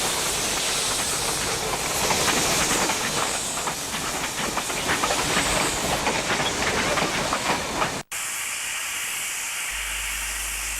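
Steam locomotive arriving at Tumbarumba station in New South Wales, Australia, with loud continuous hissing steam and faint rail clatter, cut off abruptly near the end and followed by quieter hiss.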